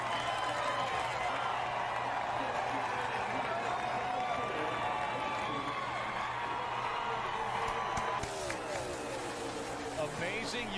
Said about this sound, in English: Cheer from the crowd.